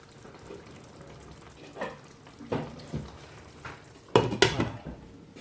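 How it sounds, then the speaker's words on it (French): A lid is set onto a pot simmering on a low hob, with a few soft knocks of cookware followed by a louder double clatter of metal near the end, close by, without speech. "Je vais y mettre un couvercle."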